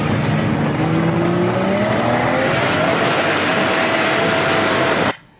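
A Chevrolet Opala Gran Luxo or Diplomata muscle car accelerating hard, a loud, steady engine roar with rising pitch that holds for about five seconds before cutting off abruptly.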